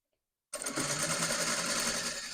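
A sewing machine stitches a neckband piece onto blouse lining cloth, starting abruptly after a brief silence and running as a steady, close, continuous whir for the rest of the clip.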